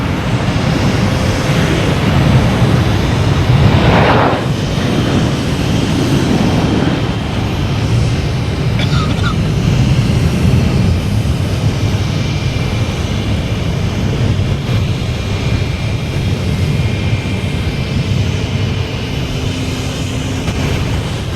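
An American Airlines jet airliner passes near Boston Logan Airport with a loud, sustained broadband engine roar that swells and lingers without breaks, heard without any speech over it.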